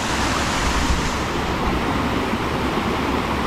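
A forest river rushes over mossy stones, its broadband roar steady and continuous, close and loud throughout with no voices.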